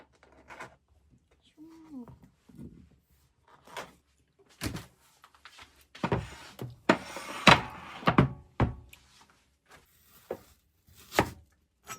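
A knife chops vegetables on a cutting board in a home kitchen, giving sharp, irregular knocks that cluster and grow louder toward the middle, with quiet talk in between.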